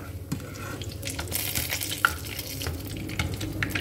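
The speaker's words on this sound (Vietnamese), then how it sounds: "Vớt ra chiên từng phần như thế này." Vegetarian ribs fry in a pan with a steady, close sizzle, broken by scraping stirs and scattered crackling pops.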